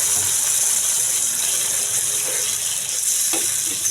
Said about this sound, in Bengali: এবার আমার মশলাটা ভালোভাবে ভাজা হয়ে গেছে